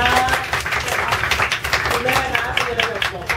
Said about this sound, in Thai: ปรบมือให้เลยครับ